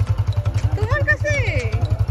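Motorcycle engine throbbing in a steady low, rapid pulse nearby while voices speak over it.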